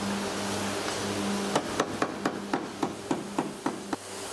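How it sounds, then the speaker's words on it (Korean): A hammer strikes a steel car body panel during welding repair, about ten sharp metallic blows in a steady rhythm, close and distinct over a low background hum. "용접과 망치질을 반복하면서 철판을 평평하게 펴면서 붙여줘야 표면이 깔끔하게 마무리된다고 하네요."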